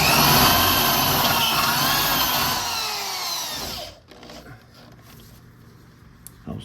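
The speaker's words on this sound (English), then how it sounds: "I will enlarge the hole, drilling through the entire outside sheet metal, which is the 1/4 panel, then just hitting the inner structure." A 1/4-inch drill bit bores loudly through the outer quarter panel sheet metal of a 1969 Pontiac GTO, a steady high whine for about four seconds, then cuts off abruptly, leaving quieter workshop rattling and handling.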